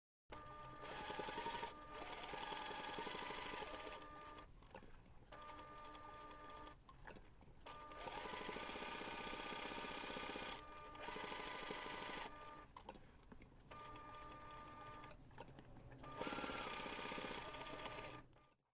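A sewing machine stitches a rectangle on bag lining for a zipper pocket, running in steady bursts of a few seconds separated by short pauses, close and clear with no talking.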